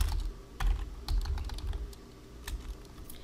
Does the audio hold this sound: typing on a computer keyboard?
yes